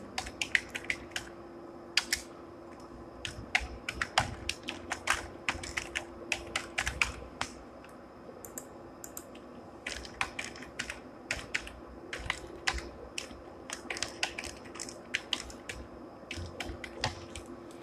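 Rapid clicking keystrokes on a computer keyboard as an email ID and password are typed, in quick bursts with short pauses, close and clear over a faint steady hum, with no talk.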